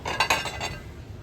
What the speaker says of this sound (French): Il y a aussi la super belle vaisselle.